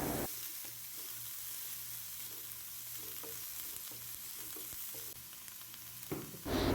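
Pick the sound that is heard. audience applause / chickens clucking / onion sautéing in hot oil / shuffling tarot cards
onion sautéing in hot oil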